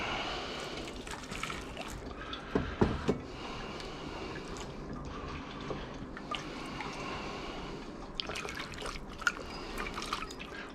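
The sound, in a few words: water washing and dripping during gold recovery process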